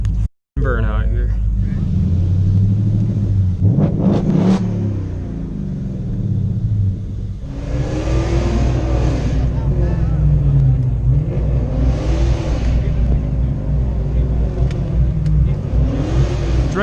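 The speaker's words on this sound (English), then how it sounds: "Let's do a sick burnout here." A car at a private car meet revs hard for a burnout, its engine climbing and falling in loud repeated sweeps over a constant low rumble from start to finish.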